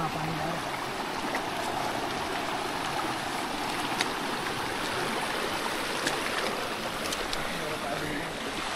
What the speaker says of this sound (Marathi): छोटासा पाण्याचा फ्लो पाहायला मिळतोय